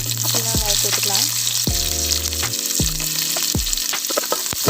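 Crushed garlic and onion frying in oil for sambar produce a bright, continuous sizzle, heard under a woman's sung or melodic tones.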